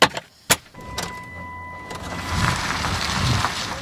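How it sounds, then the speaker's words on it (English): A car interior on a morning drive: a couple of sharp clicks and thumps, a brief electric whine, then a steady low road and engine rumble building underneath. "On this particular morning, Tabitha decides to go for a drive."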